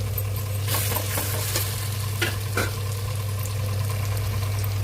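Onions and green chillies sauté in a pan, a steady close sizzle with scattered stirring scrapes and clatters over a low constant hum from a nearby burner.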